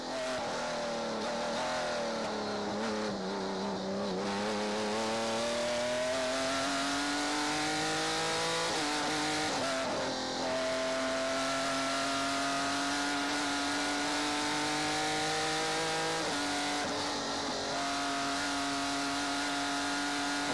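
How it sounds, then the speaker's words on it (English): Onboard with a 2002 Barber Dodge Pro Series race car on the opening lap at Lime Rock, the engine roars loud and continuous, its pitch climbing and dropping as the throttle lifts and reapplies between gear changes. "a pretty big lift off the throttle going into the diving turn"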